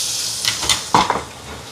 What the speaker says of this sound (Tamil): இப்போ வெங்காயம் வதங்கிட்டு இஞ்சி பூண்டு பேஸ்ட்டு சேர்க்குறேன்.